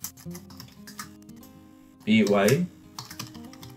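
Rapid keystrokes on a computer keyboard, a dense burst of typing lasting about half a second, fairly close and loud, with a voice speaking before and after it.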